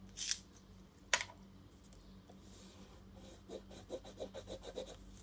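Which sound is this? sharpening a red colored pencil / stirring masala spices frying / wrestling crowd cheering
sharpening a red colored pencil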